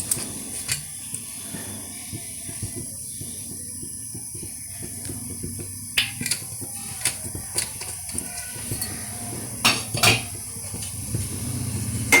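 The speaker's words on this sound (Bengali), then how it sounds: "এবার আমি গ্যাস জ্বালিয়ে কড়াটা বসাচ্ছি।" A kadai wok is set on a lit gas stove, heard as scattered close metallic clinks, taps and knocks over a faint background hiss, with a few sharper clanks midway.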